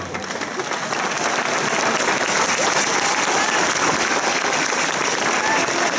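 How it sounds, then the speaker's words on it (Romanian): An audience applauds a Greek folk dance group from Ploiești, Romania, with dense, sustained clapping that builds within the first second and holds steady at full strength. "au rămas ca să ia aplauze."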